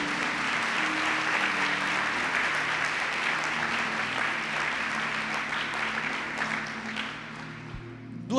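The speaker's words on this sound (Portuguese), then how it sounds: "Você pode dar um aplauso a Jesus por isso?" A church congregation claps during a sermon, steady sustained applause at moderate level that carries on evenly for several seconds before tapering near the end.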